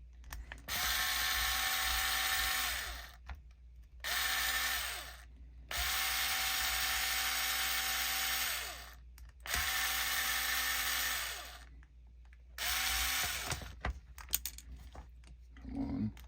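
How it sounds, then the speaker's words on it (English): An electric screwdriver removes screws from an RC car gearbox in four separate whirring bursts, each a few seconds long and separated by short pauses, followed by faint clicks and handling sounds. "we are gonna take the screws out of this gearbox"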